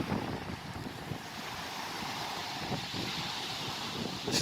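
Surf rolls in continuously on a winter beach while steady wind buffets the microphone, a broad unbroken roar with gentle swells in loudness and no voices.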